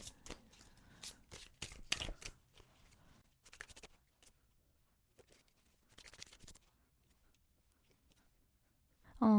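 Tarot cards shuffled by hand in quick papery riffles and bursts, loudest at the start, then thinning out to sparse shuffles with quiet gaps between, ending in a sudden louder knock.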